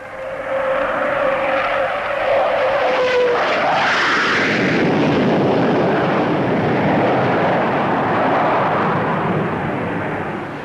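A Vickers Valiant long-range jet bomber roars past at an air show, a rising whine sweeping through before giving way to a loud, sustained broadband jet rumble that fills the rest of the stretch.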